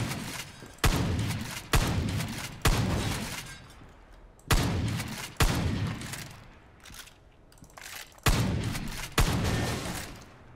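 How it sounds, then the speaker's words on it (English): Shotgun blasts in Far Cry 5 break apart objects in the map editor: six or seven loud, sharp reports spaced about a second apart, each with a booming tail, heard alone without talk. "Let's see if a shotgun"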